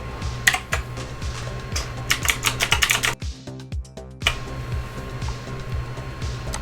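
Keys clack on a computer keyboard in quick bursts of close, crisp taps, broken by a short quieter pause before the steady clicking resumes over a faint hum.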